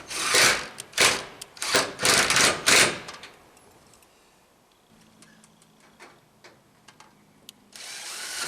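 A power drill driving screws into wood outdoors: several loud whirring bursts in quick succession, close up, followed by quieter clicks and handling noise and a final rising whir, with no talk.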